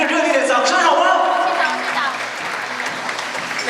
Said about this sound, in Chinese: 再一次给予我们Catherine一个热烈的掌声，好吗？